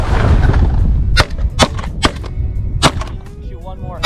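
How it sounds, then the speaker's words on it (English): Several sharp, loud shotgun blasts fired at sandhill cranes during a Saskatchewan hunt, spaced irregularly over outdoor ambience, with people talking quietly between shots. "Shoot one more."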